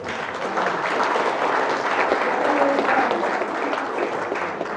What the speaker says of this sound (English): let's give the parents a round of applause real quick